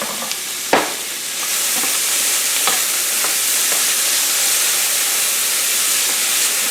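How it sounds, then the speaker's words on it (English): Jalapeno, garlic and ginger hit hot oil in a pan for a vegan eggplant curry, a sudden loud hiss that settles into a continuous close sizzle with a few stirring clicks. "I'm going to go ahead and add these other aromatics, the jalapeno, garlic,"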